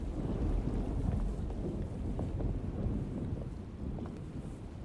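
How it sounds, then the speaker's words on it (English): Low, steady rumble of an approaching thunderstorm in the 2024 Alone in the Dark game, a dense wash of deep roll with wind-like noise sustained throughout, no speech. "Looks like a storm's coming."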